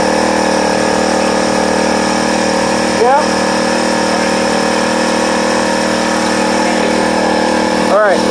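A Honda HHT GX35 weed eater engine runs on choke, close and loud, with a steady high-pitched drone that holds for the whole stretch.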